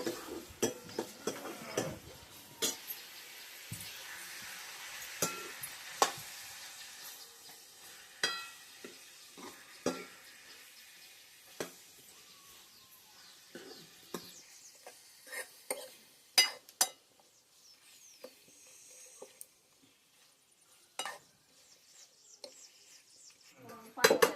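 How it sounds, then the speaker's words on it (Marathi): Onion sizzles softly in a pan while a spoon scrapes and clinks against it in irregular strokes, with quiet gaps between the stirring sounds. "चांगला कांदा भाजून घ्यायचा."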